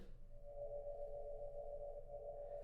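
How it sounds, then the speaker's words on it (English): Copper's light spectrum turned into sound within one octave: a steady cluster of a few clear, sustained tones over a rough, noisy low rumble, holding evenly for under three seconds. "so copper's spectrum sounds like this."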